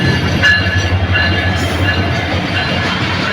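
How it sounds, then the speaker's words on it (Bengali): A crowded passenger train in Bangladesh rolls into a station at the end of the Eid holiday, producing a close, steady heavy rumble with faint clatter and no voices. "অবশেষে ট্রেনটা এসেছে।"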